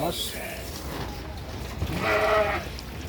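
Sheep bleat a few times nearby at a sacrificial animal market, the last call loudest, while people talk in the background.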